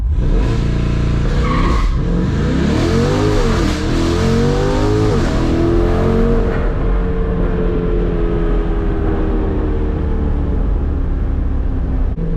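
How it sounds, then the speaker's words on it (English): C8 Corvette launch control start on Nitto NT05 tires: a loud engine revs hard, then roars up through rising sweeps as the car accelerates away, with a brief squeal of tires. "All right, let's see if it launches better now on these new tires."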